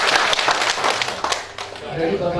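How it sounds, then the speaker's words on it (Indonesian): People at a community fire-safety awareness gathering clap their hands together, a brief burst of applause with individual claps standing out, overlapping with voices in the room. "Kalau mantap tepuk tangan lagi untuk kita."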